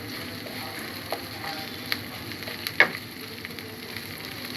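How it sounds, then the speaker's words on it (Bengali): Ginger, garlic and cumin paste with turmeric fries in oil in a pan, a steady soft sizzle with a few faint scrapes and clicks, no voices. "মশলাটাকে ভালো করে কষিয়ে নিব।"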